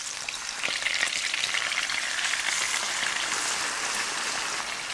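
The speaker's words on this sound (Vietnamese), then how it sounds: "Khi dầu đã nóng thì mình cho thịt vào chiên nè." Pork pieces fry in hot oil in a pan, giving a steady, dense crackling sizzle for several seconds, close and moderately loud, with no voices.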